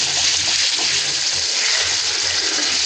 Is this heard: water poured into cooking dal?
yes